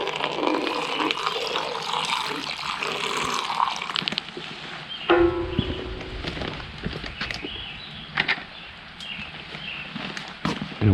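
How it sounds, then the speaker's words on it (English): Water running and splashing while a cup is washed out outdoors near a campfire, with clattering handling noises and a few knocks throughout. "I'm going to wash out my measuring cup."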